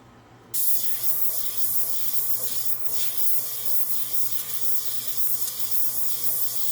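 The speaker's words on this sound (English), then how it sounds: "I'm just moving the airbrush up and down and letting those little leggy things do their thing" An airbrush sprays alcohol and acrylic ink onto a flower painting, a soft steady hiss that starts abruptly and swells in short pulses as the brush moves up and down.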